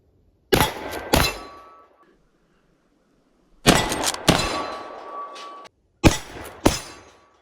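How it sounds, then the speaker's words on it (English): Lever-action rifle shots ringing off steel targets: pairs of loud, sharp cracks, each followed by a metallic clang and ringing decay, in three bursts separated by short silences. "Shoot that target over there and then swing back and shoot this target."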